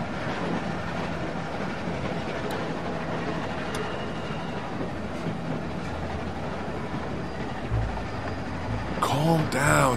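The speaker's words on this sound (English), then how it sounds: "Stop the train." A train in The Walking Dead video game rolls steadily along the rails with a constant low rumble and faint clatter, and a louder screech and rattle build near the end.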